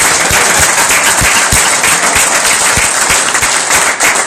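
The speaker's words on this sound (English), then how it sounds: "acknowledge them by giving them the recognition and applause that they deserve" An audience at a recognition ceremony claps loudly and continuously, with dense overlapping hand claps forming a steady wash of applause from start to finish.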